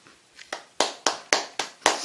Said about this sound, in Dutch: Applausje voor Arie. Even klappen mensen.